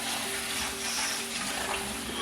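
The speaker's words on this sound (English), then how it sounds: "Now it's the time to wash the zucchinis." Water runs steadily from a tap as zucchinis are washed, a continuous close hiss with a faint tonal hum underneath and no talk.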